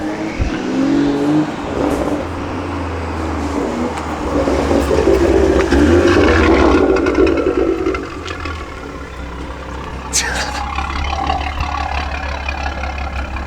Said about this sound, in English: That turbo noise is nice for sure.